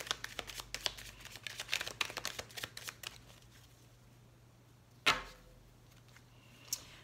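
Tarot cards shuffled for a nine-card spread: a run of quick, soft riffling flicks over the first three seconds, then a quiet pause broken by two sharper slaps, close and fairly faint.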